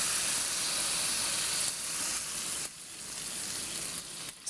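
Seasoning sauce hitting a pan of grilled pork over medium heat, setting off a loud, continuous, close-up sizzle that eases slightly and settles into a steady hiss, with occasional small stirring scrapes.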